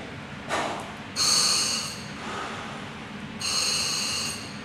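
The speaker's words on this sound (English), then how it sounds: "So we blow and a couple of good breaths." Breaths are drawn through a scuba regulator while its pressure gauge is checked: a few close, hissing inhalations with airy exhalations between them, sounding alone and fairly loud without any talk.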